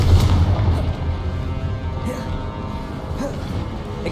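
Confringo blast spell cast in Hogwarts Legacy, a dense rumbling burst of booms and crashes that fills the moment, heavy and close, with layered impact noise throughout.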